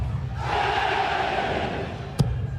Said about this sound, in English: you can have a little boo on that one